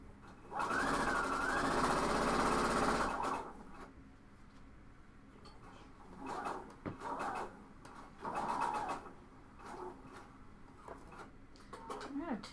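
A home sewing machine runs in one steady burst for a few seconds, then stops, with short quieter mechanical sounds and handling noises after, the machine struggling during a cowl neck tank sewing session.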